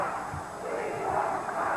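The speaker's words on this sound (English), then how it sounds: "Crowd chanting about Spike Huber to Tully Blanchard." A wrestling crowd chants in an arena during a mixed tag match featuring Tully Blanchard and Donna Day. The sound is a dense, swelling mass of voices, loud and continuous, rising and falling gently in a chant-like rhythm.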